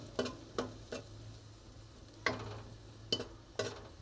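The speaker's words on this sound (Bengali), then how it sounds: "তো পেঁয়াজ কুচিটাকে হালকা একটু ভেজে নিব।" Chopped onion fries in oil in a pan, heard as a quiet hiss under a low hum, broken by six or so crisp spatula taps at uneven intervals.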